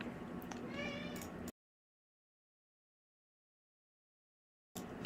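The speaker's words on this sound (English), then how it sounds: "Sorry about the cat in the background." A house cat meows in a quick run of rising, whiny calls close by, then the sound cuts out to silence before a brief return at the end.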